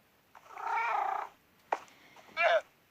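Cats in a video game give a soft, sustained purr-like rumble, then two brief chirping cat sounds, quiet and close with no talking.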